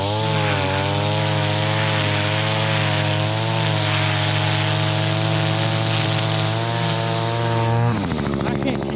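An Echo string trimmer engine runs loud and close at high revs, a buzzing two-stroke drone that wavers slightly, then drops off abruptly near the end.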